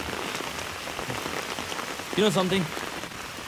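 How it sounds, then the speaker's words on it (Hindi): Steady rain falls throughout, a dense even hiss of drops on surfaces, while someone speaks briefly partway through. "बारिश में भीग रहा हूँ।"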